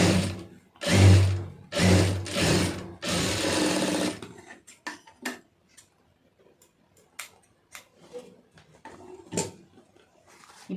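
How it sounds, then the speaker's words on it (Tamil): A sewing machine stitches fabric for a hook strip, running in four quick bursts of whirring, rattling needle action before falling to faint clicks and ticks. "முதல்ல ஒரு படிமான தையல் போட்டுக்கிறோங்க."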